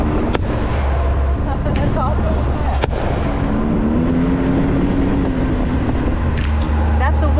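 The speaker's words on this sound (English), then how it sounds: "Here just in time for some fireworks." Fireworks bursting over a wedding celebration at an off-road mud park, sharp booms and crackles ringing out repeatedly through a steady rumble of engines and wind, with people talking nearby.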